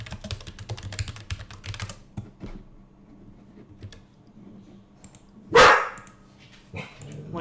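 A single loud bark from a dog nearby, cutting sharply through quiet computer keyboard typing that clatters on before and after.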